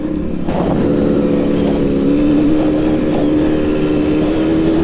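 A motorcycle engine idles low and steady, a continuous close rumble with a slight rise in pitch midway and no other sounds over it.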